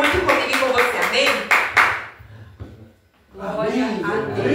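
A church congregation claps in a brisk burst of applause for about two seconds, then it dies away into near silence before a voice speaks in Portuguese.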